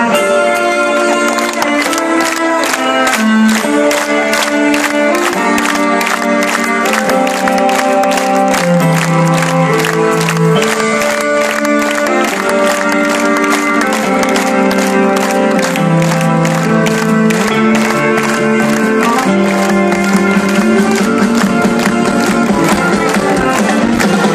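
At the Mera Luna 2014 festival, a rock band plays a song while the concert audience claps along in a steady rhythmic beat, blended into loud continuous music throughout.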